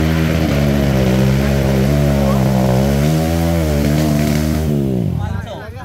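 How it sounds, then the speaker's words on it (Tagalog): A motorcycle engine drones loudly and steadily at high revs, its pitch rising gradually as it hauls riders at a Bulacan drag race event, then cutting off near the end; people are heard talking faintly beneath it. "Hindi, hinahatak sila ng motor."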